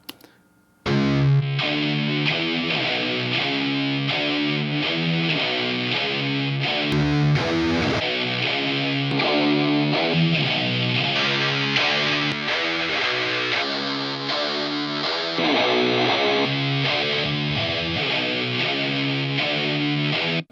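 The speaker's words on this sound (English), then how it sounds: "We did occasionally mess around with varying types of distortion in front of the guitars." Heavily distorted, fuzzy electric guitar through a fuzz pedal playing chords and riffs continuously, loud and saturated with a thick buzzing tone, no voices.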